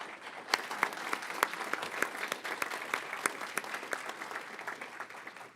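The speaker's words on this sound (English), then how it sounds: "Let's give a round of applause to the panelists." A conference audience at a keynote and panel session applauds the panelists, with steady, dense clapping carrying on throughout, a few sharper claps standing out and the applause easing slightly toward the end, with no talk over it.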